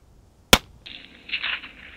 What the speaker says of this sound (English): It's a great shot and the roe doe drops on the spot